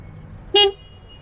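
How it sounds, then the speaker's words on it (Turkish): A single short, loud honk of a Lambretta X300 scooter horn, lasting about a fifth of a second over quiet background hum. "kuvvetli bir kornası var."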